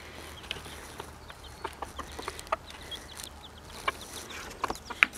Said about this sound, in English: See the little chickies?